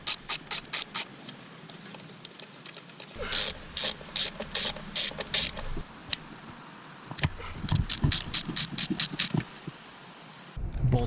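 A hand ratchet removes the manifold cover bolts on a Honda engine, in several bursts of sharp, close clicking separated by short pauses.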